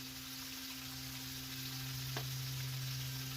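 Steady crackling sizzle of chicken frying in hot grease, continuous and close, with a low hum underneath and a faint clink partway through.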